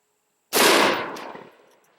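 A single M855 round fired from a 16-inch barrel PV-13 rifle at an AR500 Level III armor plate, one sharp, loud, close blast followed by a decaying outdoor echo.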